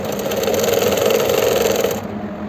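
Up close, a sewing machine stitches an umbrella-style flared palazzo with a fast, even motor whir and needle rhythm, then slows toward the end of the short clip.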